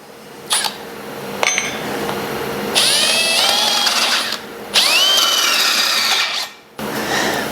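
A power drill runs in several bursts while boring a hole out to 13/32 in a garage engine job, whining loud and close with brief pauses and a short revving pattern, no voices over it.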